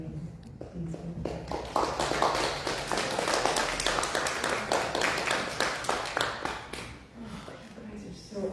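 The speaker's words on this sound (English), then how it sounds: "if you would like to clap for our Elevate Trio, please do." Audience clapping for a vocal trio at a livestreamed gathering: irregular, moderately close hand claps with loose rhythmic bursts, swelling mid-way and thinning toward the end, with scattered voices mixed in.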